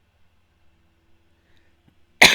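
A single short, sharp human cough comes abruptly after near silence, loud and close, at the very end.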